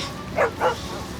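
A dog gives two short, moderately loud barks in quick succession, close by, set in a domestic scene from a Turkish TV series.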